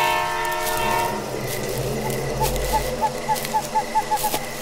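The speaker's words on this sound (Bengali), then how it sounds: "টের পেল অনেক দূরে পেছন দিক থেকে ট্রেন এগিয়ে আসার শব্দ।" A distant train draws closer from far behind near a large station, a low steady rumble building under the scene, with a series of short pulsed tones recurring toward the end.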